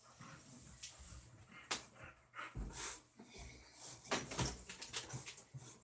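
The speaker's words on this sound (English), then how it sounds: "now I got a dog wanting out" A dog whimpers and pants indoors, wanting to be let out, with repeated short whines and snuffles at close range.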